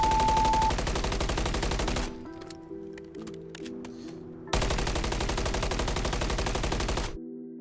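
Two long bursts of continuous automatic rifle fire in MW3 recoil control practice, loud and steady, separated by a quieter gap of faint clicks and tones.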